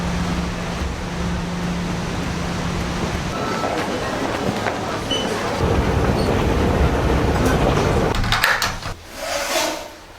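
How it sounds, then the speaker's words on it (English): A train rumbles steadily into a station, wheels clattering and brakes hissing as it slows, with a high screech near the end. "Train is approaching the station for gates A."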